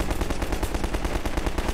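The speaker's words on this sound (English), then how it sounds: "Stop shooting me!" Rapid automatic gunfire from the video game Half-Life 2, a steady stream of loud, closely spaced shots hammering on without pause for the whole moment.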